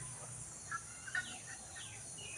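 A chicken gives a few short, faint clucks over steady outdoor background hiss, isolated calls at moderate distance.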